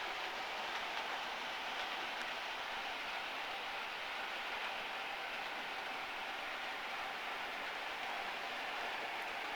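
Model railway locomotive, a Crosti-boilered 9F set to run slowly, rolling along a layout track as a steady, even rumble that holds at a constant level throughout with no talk.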